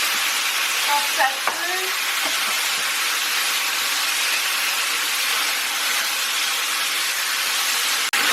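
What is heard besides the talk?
beef sizzling in a wok for pepper beef stir-fry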